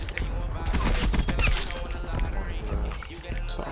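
Rapid gunfire in the video game Black Ops Cold War, dense bursts of automatic shots running continuously, loud and close, mixed with game noise.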